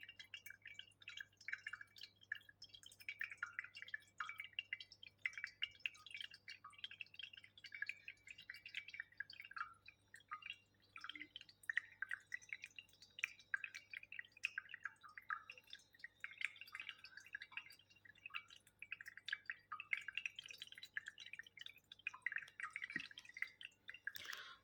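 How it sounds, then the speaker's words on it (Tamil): Small tabletop fountain with a Murugan statue, water trickling and dripping in a continuous soft patter, faint and close in a quiet room, with a low steady hum beneath. "அந்த வாட்டர் ஃப்ளோ ஆகக்கூடிய சவுண்ட் வந்து நல்லாவே உங்களுக்கு கேட்கும்"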